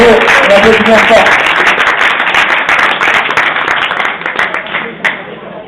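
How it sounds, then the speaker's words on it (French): Audience applause for an award winner from the modern pentathlon section at a Saint-Denis awards ceremony, loud dense clapping that gradually tapers off, with a voice briefly over it at the start. "Bravo, on applaudit bien fort."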